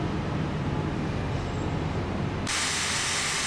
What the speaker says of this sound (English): He just let off steam freely.